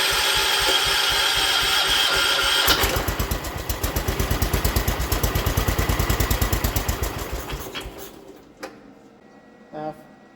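A 1979 John Deere 216 lawn tractor engine with hydraulic lift runs steadily and is throttled down partway through, settling into a slower, pulsing idle before cutting off near the end; the engine sounds close and loud.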